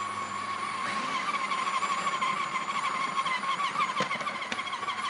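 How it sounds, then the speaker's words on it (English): A food processor's strong motor whines steadily as a dough hook kneads pasta dough, a continuous high drone with occasional knocks and rattles as the machine shakes, fairly close, with no talk. "You'll hear the change in sound as this is why you need a strong motor to really sort of knead it up."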